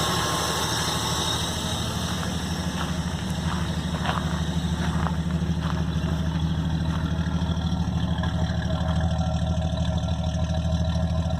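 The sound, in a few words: 1974 Dodge Dart engine idling with exhaust note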